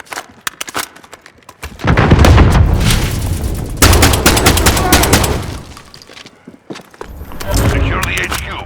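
Loud, dense gunfire from Call of Duty Modern Warfare multiplayer in an HQ mode: scattered sharp shots give way to sustained bursts and automatic fire with booming impacts, interrupted by brief pauses, with game voices calling out beneath.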